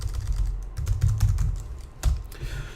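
Light, irregular keystrokes on a computer keyboard while text is entered in a Python GTK+ 3 tutorial, heard as close, dry clicks in short bursts with brief pauses.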